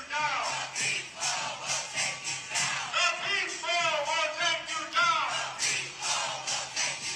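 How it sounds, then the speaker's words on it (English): Massive protest demonstration crowd in the streets, a dense sustained roar of many voices with rhythmic chanting swells and shouts, steady and loud throughout. "Let's take a look at those massive protests"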